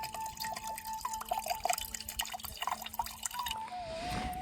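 Water drips and trickles from the tap of a roadside drinking-water tanker, a close, irregular patter of drops with a brief steadier pour near the end.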